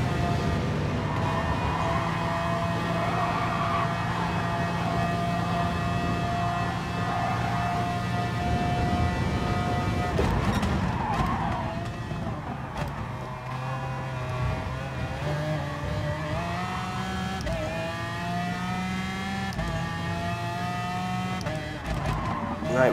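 Race cars in GT Sport, a Corvette and a Mustang running close together, with loud sustained engine drone and rising, shifting engine pitch throughout, a brief tyre-squeal burst midway, and commentary-like voice faintly underneath.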